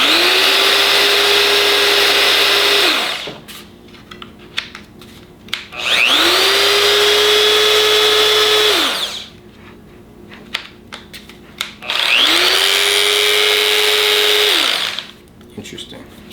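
A Festool RO 90 random orbital sander runs in three loud, steady bursts of about three seconds each, spinning up and winding down between them, close by with no talk over it.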